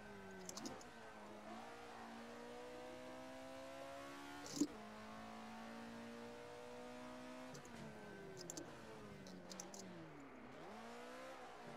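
A simulated race car engine in Assetto Corsa VR revs steadily upward, its pitch climbing then dropping sharply at each gear shift, with a few throttle blips and faint clicks, heard alone.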